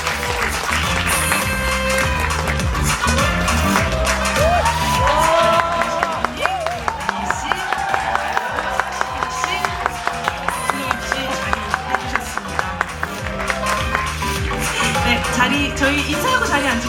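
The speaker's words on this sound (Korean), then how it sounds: "큰 박수 부탁드리겠습니다." A theater audience at a special screening event applauds and cheers loudly, a dense mix of clapping and whoops over music-like tones, sustained throughout.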